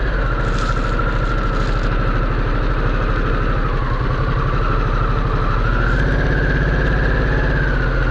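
A Harley-Davidson Sportster S motorcycle engine runs steadily in traffic, a loud, continuous low throbbing rumble close by with a faint whine above it, and no voices.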